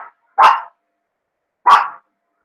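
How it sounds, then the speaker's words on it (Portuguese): Dogs bark in two sharp, loud, separate barks about a second apart, close by, with silence between them. "Os cachorrinhos aqui tá difícil hoje."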